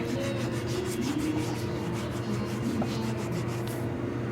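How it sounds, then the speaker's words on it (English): Scrubbing pad worked back and forth across a kitchen counter, giving a close, steady rasping rub with quick repeated strokes throughout and no talk. "I'm going to get my scrubbing pad and scrub all this off"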